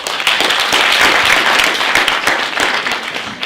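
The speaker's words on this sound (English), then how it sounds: "we give them a round of applause" A crowd at the closing ceremony of a university STEM festival and research symposium applauds award recipients with a dense, steady round of clapping that stays loud and continuous.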